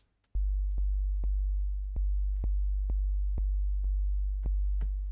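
A deep, booming 808 bass synth note repeats in a steady pulse, about ten hits with short clicky attacks, loud and alone with no voices.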